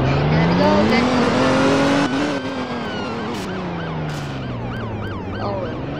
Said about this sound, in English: That sounds like sirens. That is sirens.